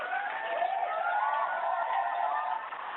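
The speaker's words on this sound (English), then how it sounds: "Let me give Steve a round of applause, man." A studio audience claps and cheers in a steady, dense wash of applause with no talking over it. The sound is muffled and narrow, as if heard over a phone line.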